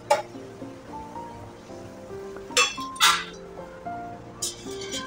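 Faint metallic clinks and clatters of a spice strainer and whole spices going into a pot of water while cooking Bengali Basanti pulao, as a few scattered sharp chinks over a soft kitchen background with no voices.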